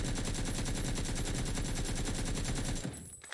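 Sustained automatic weapon fire in PUBG, a rapid, evenly spaced stream of loud close shots emptying a magazine for nearly three seconds before stopping abruptly, followed by a faint mechanical clatter.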